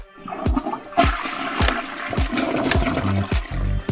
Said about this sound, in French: Eh oui, je viens de tirer la chasse d'eau.